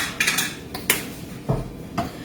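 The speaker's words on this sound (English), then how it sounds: "Now you're going to mix that around and mix that up" A spoon clinks and scrapes against a bowl while mixing a lobster hoagie marinade, several sharp close metallic taps in an irregular rhythm over quiet background.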